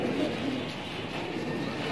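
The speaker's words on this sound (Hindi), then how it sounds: "असली मुरादाबादी कबूतर देख सकते हैं" Soft, low cooing from Muradabadi pigeons, black-marked birds kept together, rolling in short repeated murmurs close by over a steady background hum.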